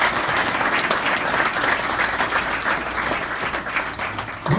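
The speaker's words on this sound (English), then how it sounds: "I'd like to give Steve a round of applause myself" A crowd at a YMCA ribbon cutting in Ligonier, Pennsylvania gives Steve a round of applause, with dense, steady clapping that carries through the whole stretch and thins slightly near the end.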